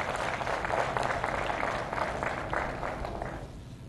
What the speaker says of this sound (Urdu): وزیر اعظم صاحب کے لیے ہم سب کی طرف سے زوردار تالیاں ہونی چاہیے